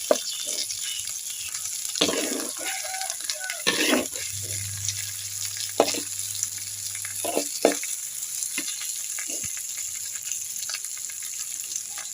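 Catfish frying in a pan of hot oil, giving a steady crackling sizzle throughout, with occasional sharper pops and spatters and a brief low hum partway through.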